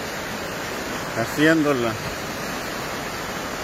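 A river in El Salvador, swollen after heavy rains, rushes in a steady, loud broadband roar nearby, with a brief spoken word partway through.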